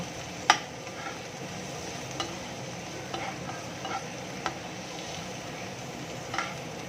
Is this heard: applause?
no